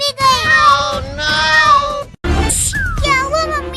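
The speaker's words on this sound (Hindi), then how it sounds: "बिल्लियाँ हमारा सारा दूध पी गई।" Cartoon cats meowing in a Hindi comedy, several loud, drawn-out cries with sliding pitch, two long ones back to back, then a brief break, a short scuffle and another rising wail, voiced by performers.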